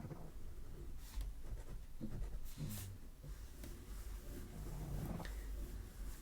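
A Kalour watercolor pencil scratches across paper in short uneven strokes, a faint, close, dry scraping with soft pauses between lines.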